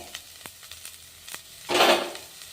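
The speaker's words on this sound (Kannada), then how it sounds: "ಸಾಸಿವೆ ಚಟ್ಪಟ ಅಂದ ತಕ್ಷಣ ಈರುಳ್ಳಿ, ಕರಿಬೇವು ಹಾಕಿ ನೋಡ್ರಿ" Mustard seeds, onion and curry leaves hit hot oil for a North Karnataka chana dal palya, first light stirring taps, then a loud, close burst of sizzling that swells and slowly eases, with no speech.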